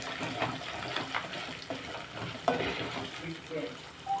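Ingredients for mustard-flavoured tamarind rice fry in a pan, a soft continuous sizzle with scraping stir strokes and small clinks, close and moderately loud, with no talking.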